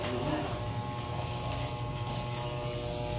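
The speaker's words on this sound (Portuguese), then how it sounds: "Ele já vai passando a máquina e vai disfarçando a parte superior." An electric hair clipper cutting and blending the upper part of a haircut in a barbershop, a steady close buzzing drone that stays level and continuous throughout, with faint murmuring in the background.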